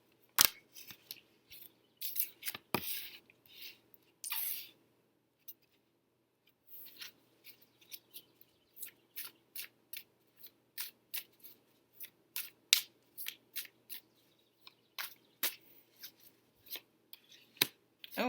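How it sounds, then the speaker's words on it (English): Tarot cards are shuffled up close in quick bursts of crisp riffling and slapping, pausing briefly before resuming in a steady run of short rustles. "really shuffle well, and I separate all the cards and put them back in the deck"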